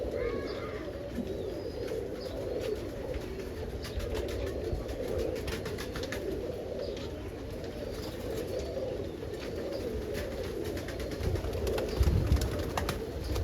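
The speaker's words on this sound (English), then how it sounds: "let's let the birds out" Released pigeons from a loft coo steadily in a dense flock, with soft wingbeats and light rustling mixed in over a constant outdoor background.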